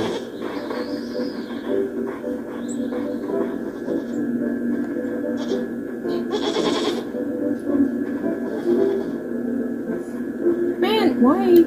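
A goat in a video game bleats repeatedly over continuous game background sound, with people talking throughout and short calls scattered across the clip, the louder ones near the end.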